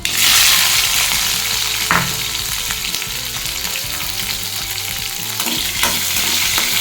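Mustard seeds spluttering in hot oil, a loud, close, continuous sizzle with crackling pops and occasional stirring scrapes, no talking.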